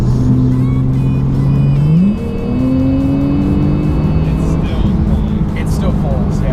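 A 2017 Porsche 911 Turbo S accelerates hard on a freeway, its engine note rising steadily, dropping briefly at a gear change, then climbing again. The engine is loud and close, with wind and road roar underneath.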